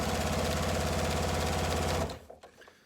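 A sewing machine stitches quilt strips for a nine-patch block in a loud, rapid, steady mechanical whir close to the microphone, then stops abruptly, leaving a few faint handling clicks.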